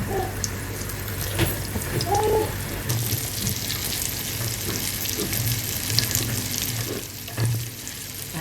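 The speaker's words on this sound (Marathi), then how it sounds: "ह्याच्यात घालूया हे तुकडे बघा तेल किती मस्त तापला" Fish pieces dropped into well-heated oil in a pan, sizzling and crackling steadily and close up for several seconds, with a few brief clinks and splashes and no talking.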